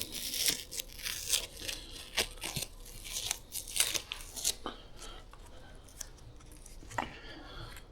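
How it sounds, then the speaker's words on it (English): Sharp ripping and crinkling bursts, close and fairly loud, repeating irregularly as tape is peeled off a painted whitetail deer mount, fading to softer crackles near the end. "Now you can remove the tape."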